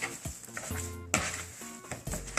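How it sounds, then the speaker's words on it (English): Raw ground meat for cheese-stuffed bacon burgers being worked by hand, giving soft, wet squelching and slapping sounds in short irregular bursts, close and moderately loud with no talking. "let's go ahead and mix everything really good"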